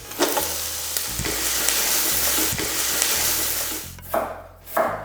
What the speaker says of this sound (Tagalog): Igisa lang natin ito ng mga 30 to 35 seconds.